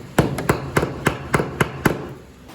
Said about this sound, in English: We secure the tubing to the studs